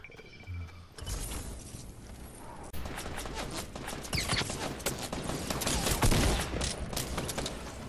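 Gunfire in the Fortnite video game: dense, rapid bursts of shots build into a loud, near-continuous volley with brief mechanical clatter mixed in.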